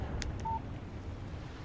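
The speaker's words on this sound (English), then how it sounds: "Text message from Barry." A short electronic phone alert for an incoming text message in the video game Alan Wake Remastered, a brief tonal chirp heard once over a low background hum.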